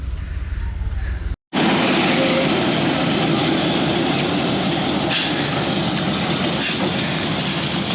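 A narrow-gauge railway train running around its consist gives a loud, steady rumble with rolling wheel noise that continues without a break. A short dropout comes early on, and no one speaks.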